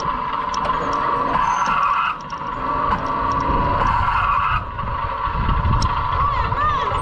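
A go-kart drives and accelerates, its engine droning steadily with a surging pitch and occasional tire noise, heard nearby with brief dips in level.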